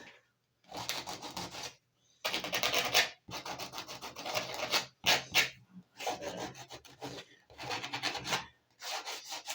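Sandpaper rubbing against the plastic hull of a 1/200 Trumpeter HMS Hood model kit, in repeated close rasping strokes of about a second each, separated by short pauses, with no talking.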